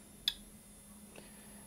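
A Kvarts DRSB-01 radioactivity indicator gives one sharp click, then a softer second click a second later, over a faint steady electrical hum.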